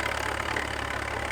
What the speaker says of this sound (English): now we've got a crawler tractor joining us. This one's an Allis-Chalmers Model M.